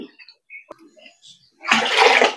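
Water pours steadily into a cooking pot on a home stove, many glasses' worth for rice flour curry leaf vadiyalu. A loud, close, rushing splash follows a few faint knocks and rustles.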